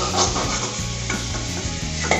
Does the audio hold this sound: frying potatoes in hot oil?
yes